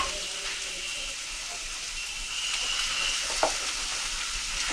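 Mashed potatoes and chopped spring onions being mixed in a hot frying pan, a steady close sizzle and soft scraping hiss throughout, with one brief clack of a spoon near the end.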